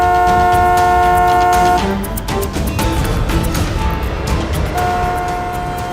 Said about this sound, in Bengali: একটু হর্নটা বাজাও, ওকে একটু সাইড করতে বলো।